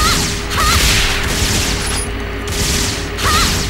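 Rocket launcher fire in the online sci-fi action game Phantasy Star Online 2, a run of loud booming blasts with crackling bursts roughly every second and a half over a steady game soundscape.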